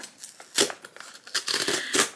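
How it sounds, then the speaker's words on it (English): A zipper opening on a small glasses box, a short near scratchy rasp in quick bursts with crinkling packaging noise between them. "It looks like a zipper. Let's see if it actually works."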